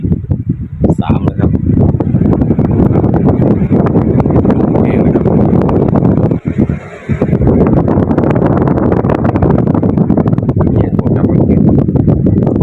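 An evaporative air cooler fan blows steadily and loudly, a constant broadband whoosh that runs almost unbroken, with someone talking over it throughout.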